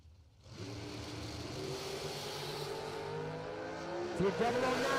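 A drag race car launches down the strip with a steady, loud engine roar that builds and holds, fairly close, with a brief sharper burst near the end.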